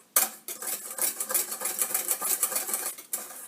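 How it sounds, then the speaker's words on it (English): Dry ingredients for potato pancakes, including salt, garlic salt and baking powder, stirred in a bowl in a school kitchen, giving a steady run of scraping, clinking strokes that start abruptly and stop near the end. "Mix your dry ingredients first."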